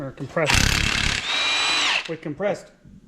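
Compressed air hisses loudly through the bolt holes of an engine block being cleaned out, two strong bursts of broadband blowing close up, with someone talking before and after.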